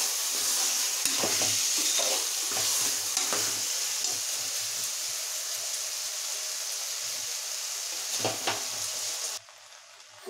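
Sambar rice sizzles in a hot pan while a spoon scrapes and stirs in short, repeated strokes, close up.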